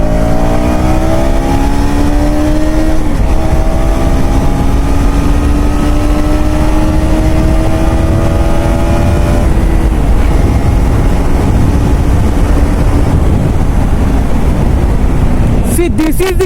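A KTM Duke 250 motorcycle engine roars loud and close, its pitch climbing steadily through a long rev with a gear change partway through, then holding a high drone before easing off.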